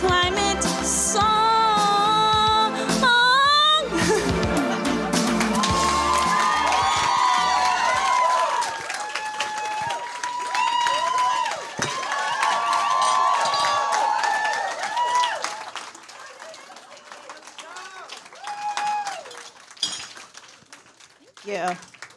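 Live audience at a singer-songwriter performance breaks into loud cheering, whoops and sustained applause after a song, the dense crowd noise thinning gradually toward the end with scattered voices.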